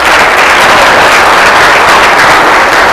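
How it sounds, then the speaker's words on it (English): Audience applause closing speaker presentations at a government blockchain forum, a dense continuous wash of many hands clapping at full volume throughout, with no voices over it. "let's give one more round of applause for all of our speakers"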